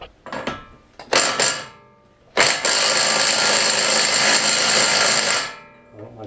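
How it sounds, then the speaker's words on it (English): Impact wrench hammering at the front axle nut of an R32 Skyline GTR: two short bursts, then a sustained loud rattling run of about three seconds, close up, with no talk. "right now I'm going to go ahead and impact this off right here"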